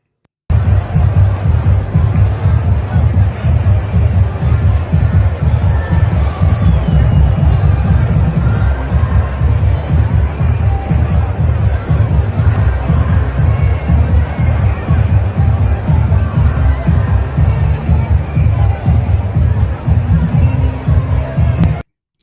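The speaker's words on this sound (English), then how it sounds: "let's show the clip from yesterday of the size of the crowd" A large outdoor crowd at a Trump rally in Butler, Pennsylvania, producing a steady, dense roar of babble and cheering that holds loud and continuous throughout without a break.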